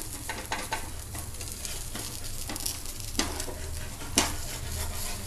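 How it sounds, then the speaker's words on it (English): A dosa sizzles steadily on a hot pan over a low flame while a spatula scrapes beneath it, with a few sharper scraping clicks standing out against the continuous frying hiss, no voices. "Now let us gently scrape the dosa from beneath and we have to flip it."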